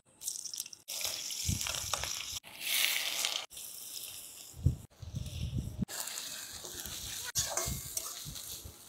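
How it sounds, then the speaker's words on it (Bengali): Onion and green chili frying in oil make a bright hissing sizzle in choppy bursts separated by abrupt cuts, with occasional low thumps of stirring nearby. "পেঁয়াজটা আমরা ভাজবো যতক্ষণ না পেঁয়াজটা লাল লাল হচ্ছে"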